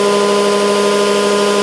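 A cart motor on a boxmotor rig spinning up during a run test, a loud steady whine with strong even tones and a constant drone throughout the short stretch.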